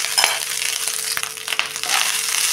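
Cooked varai rice stirred into a pan of dry fruits and jaggery-free fasting sanja mixture, giving a steady soft sizzle with light scraping and stirring, close and continuous with no talking.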